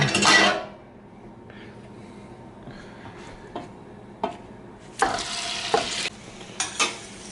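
Shrimp meet a hot pan with butter and oil over a gas flame, a loud sizzle at the start followed by softer stirring scrapes and taps of a utensil against the pan, with another burst of frying later.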